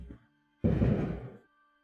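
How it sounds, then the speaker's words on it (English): Fireworks going off close to a house: one loud, dense burst of about a second rises abruptly, then fades, with a faint earlier thump and quiet steady tones underneath. "Somebody's setting up fireworks by my house, and nothing I can do about that."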